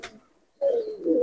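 Malwai pigeons cooing in a loft: a faint short call, then a soft low throaty coo after a brief pause, close and alone without talk.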